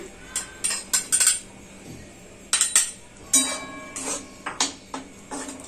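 A metal spoon scrapes and clinks against a pan while amaranth flour is dry-roasted for ladoos, giving irregular bursts of sharp clattering with short pauses between them, close by and with no talk.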